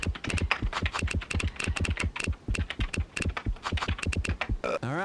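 Quick, uneven typing on a computer keyboard during a trivia game, with dense, loud key clacks in close succession and a short electronic game sound at the very end.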